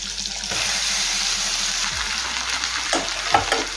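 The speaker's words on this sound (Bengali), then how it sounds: "কিছুক্ষণ সময় নিয়ে ডালটা ভেজে নেব।" Soaked masoor dal fries in a pan with softened tomato over low-to-medium gas, a loud, continuous sizzle with a few scraping stirs near the end.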